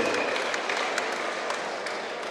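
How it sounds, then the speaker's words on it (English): Audience applause at a Hitman Fight League boxing event, a dense, steady patter of clapping from a crowd that fills the whole stretch, fairly loud and close. "Give us a nice round of applause for your mum over there."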